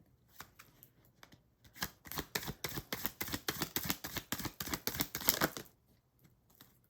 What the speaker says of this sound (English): Someone did complain that my shuffling is too loud